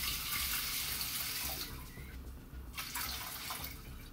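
Tap water runs steadily into a sink while French lentils are rinsed, a close, continuous splashing hiss that eases slightly partway through with a few small drips and splashes.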